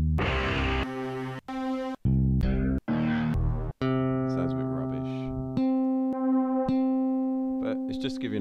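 An FL Studio beat plays with a strings sample in place of the snare, giving choppy sustained string stabs and tones in a looping pattern with abrupt cuts between hits.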